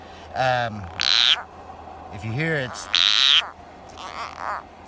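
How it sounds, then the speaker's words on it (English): A Couch's spadefoot toad croaks in several short, bleating calls, close and fairly loud, alternating with someone speaking nearby. "What we have here is a Couch's spadefoot toad."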